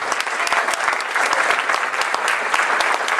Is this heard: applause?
yes